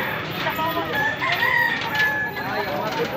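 A rooster crows loudly and close by, a drawn-out cock-a-doodle-doo with clucking fowl around it and faint voices in the background.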